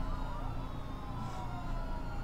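A police car siren in the SimCity video game wails faintly and continuously, a thin wavering tone over a soft steady background hum.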